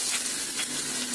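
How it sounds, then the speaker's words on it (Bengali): Chopped onion frying in hot soybean oil in a pan, a steady, quiet crackling sizzle with a soft hiss throughout and no talking. "পেঁয়াজটাকে একটু ভেজে নেব।"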